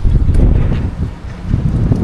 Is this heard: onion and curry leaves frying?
no